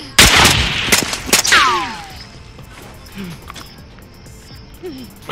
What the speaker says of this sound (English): they're shooting me